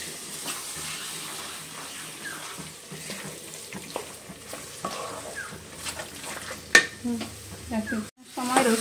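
Mutton with spices frying in a pan for village-style goat curry, a close sizzle under scraping stirs and occasional clinks, ending with a brief pause and a louder clatter.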